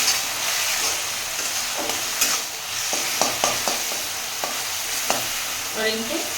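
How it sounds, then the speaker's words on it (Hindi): A spoon stirs and mixes a wheat-flour snack filling with soy sauce in a hot pan, with a steady sizzle and a scatter of scraping taps close by, and no voice. "उसके बाद इन सभी को अच्छी तरह से मिक्स करूंगी।"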